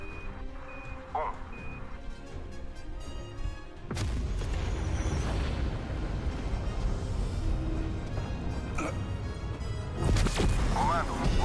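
Airstrike explosions in the Call of Duty: Black Ops Cold War zombies mode: a few electronic beeps, then a loud blast that swells into a sustained, rumbling barrage, with another heavy impact near the end.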